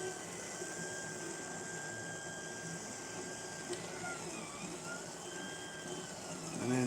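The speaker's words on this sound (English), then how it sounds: "it's basically just a way of kind of clearing out any kind of filament that may be stuck or like stuck to the nozzle" A 3D printer purges filament from its nozzle, giving a steady, faint whirring hum with a few thin motor whines that rise and fall over the noise.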